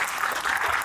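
Audience applause at a railway rolling-stock technical seminar panel discussion in Korea, a steady dense clapping from a seated crowd that holds at an even level for under a second with no talk over it.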